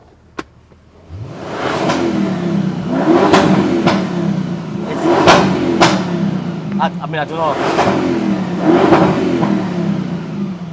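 2016 Bentley GTS Mansory engine revving in repeated loud, close bursts with sharp throttle blips, a brief spoken phrase heard among them.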